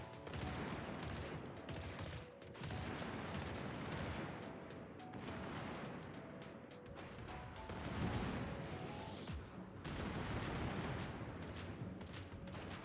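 Secondary guns on a Tier VIII premium Pan-American battleship fire in the World of Warships video game, producing a dense, continuous barrage of overlapping gunfire blasts and booms that stays loud throughout.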